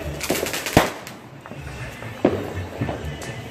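Roman candle fireworks go off outdoors in Chicago as a few sharp pops and bursts spaced irregularly, some near and some farther off, over a low background.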